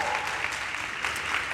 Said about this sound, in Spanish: Aplaude tranquila, no hay problema